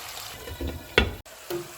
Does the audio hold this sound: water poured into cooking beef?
yes